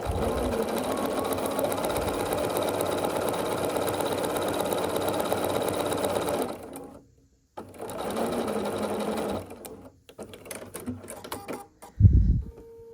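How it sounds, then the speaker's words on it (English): A sewing machine stitching a foundation paper pieced star or daisy quilt block, a close, rapid mechanical whir running steadily for several seconds, then stopping, resuming briefly and ending with a few short bursts and handling noises. "we're gonna sew here on this line between A1 and A3"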